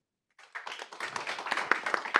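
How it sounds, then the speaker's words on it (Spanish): After a moment of silence, scattered clapping starts among the audience at a TechSprint winners' event, quickly thickening into quick, fairly close applause that grows louder toward the end. "Un aplauso muy eficiente además con el tiempo"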